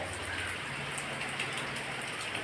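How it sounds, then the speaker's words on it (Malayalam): Steady, soft hiss of rain falling, with scattered drops pattering on a surface; no voices, fairly quiet and even. "മഴ പെയ്യുന്നു"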